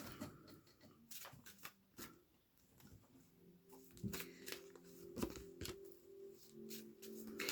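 Goddess oracle cards being shuffled by hand, a string of soft, quick riffling and flicking bursts, close and quiet.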